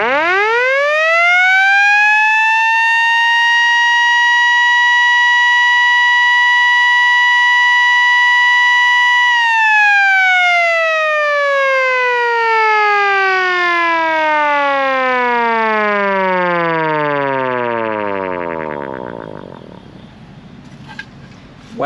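A Sentry F2 siren winds up to a loud, sustained rising wail, holds steady for several seconds, then slowly winds down in a long falling glide until it fades out, very close and with no talk.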